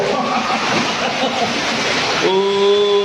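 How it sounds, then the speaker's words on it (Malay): Fast-flowing floodwater rushes in a dense, continuous roar during a flash flood in Kuala Lumpur and Selangor, close and loud, with a sustained tonal sound cutting in near the end. "Wah laju air ni."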